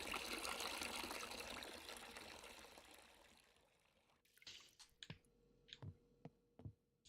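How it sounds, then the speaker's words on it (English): Liquid poured into a vessel during beer brewing: a steady rushing pour for about four seconds that tapers off, then scattered drips and light knocks of equipment, close and fairly quiet, with no talking. "So we're going to pour this into here."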